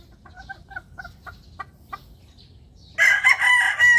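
Breeder pullets and hens give soft, spaced clucks nearby, then a loud rooster-like crow bursts out close and fills the last second.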